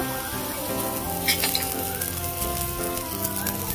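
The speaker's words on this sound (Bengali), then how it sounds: "আদা বাটা দেব" Ginger paste sizzles steadily in hot oil in a pan that also holds fried eggplant, made for a spicy koi fish curry; the frying is a close, continuous crackle with no talking.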